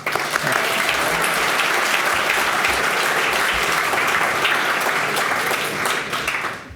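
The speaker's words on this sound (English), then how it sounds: "Another round of applause." A large audience at a college athletics Hall of Fame ceremony breaks into sustained, dense applause that holds steady and loud for several seconds before tapering slightly at the end.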